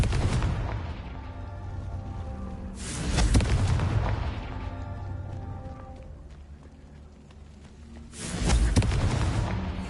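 Confringo fire spell in the video game Hogwarts Legacy, two loud booming explosive blasts a few seconds apart over a continuous rumbling game background.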